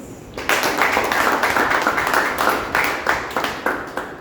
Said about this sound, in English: a big round of applause for all the participants and the audience